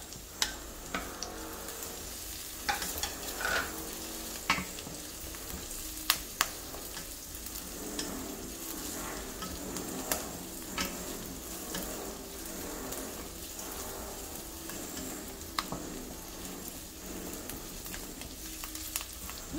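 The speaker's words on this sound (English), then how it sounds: "Let's wait for the onions to cook." Onions, curry leaves and garlic fry in a pan for a tofu curry, giving a steady soft sizzle with scattered pops and crackles and occasional stirring clicks, fairly quiet, with no talk.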